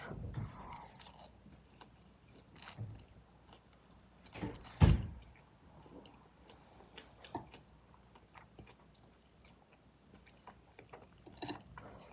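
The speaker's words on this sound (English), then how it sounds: "Trying to work on chewing more." Someone eats an omelette at close range in a quiet room, with soft, intermittent chewing and biting noises. One sharper crunch or knock stands out midway, and there is no talking over it.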